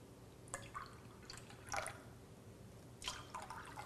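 Soda trickles into a cup in short, faint pours of only a sip each, giving separate splashy bursts with quiet gaps between them, close and soft, with no voice present.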